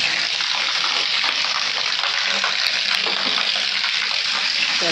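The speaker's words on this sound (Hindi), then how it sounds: "पानी भर गया, पानी बंद करने जाना पड़ेगा।" A tap runs at full flow while filling, a continuous hissing gush of water that holds steady for the whole stretch with only faint small knocks in the background.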